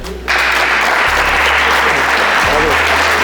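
Loud, sustained applause from a crowd at a regional 10 km running championship, steady clapping that fills the whole stretch without letting up.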